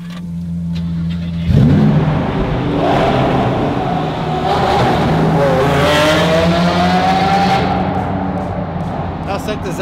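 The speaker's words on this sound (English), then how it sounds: "How sick does that thing sound? V12, baby." A powerful V12 engine roars to life and revs up, loud and close, pitch climbing and holding, with a voice briefly over it.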